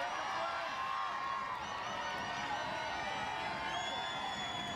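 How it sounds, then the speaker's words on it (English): A crowd at the 2003 Strongman Super Series event in Canada roars steadily, a dense wash of cheering and shouting voices that stays loud and continuous throughout. "This crowd willing him."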